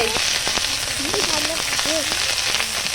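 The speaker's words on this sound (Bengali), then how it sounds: "এই যে ফোড়নে জিরে এই প্রথমে আদা রসুনটা দিয়ে দিলাম ভালো করে একটু কষিয়ে" Ginger and garlic sizzle in a cumin tempering over a wood-fired stove, a steady loud frying hiss under brief bird-like chirps and faint background sounds.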